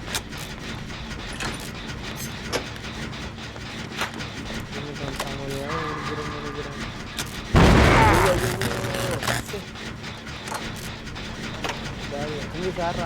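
A generator explodes in Dead by Daylight: a sudden loud blast bursts out partway through a busy game soundscape with engine hum and scattered impacts, then fades back under the ongoing noise.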